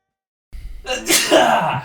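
A single sharp sneeze bursts out close by after a brief silence, ending in a breathy exhale.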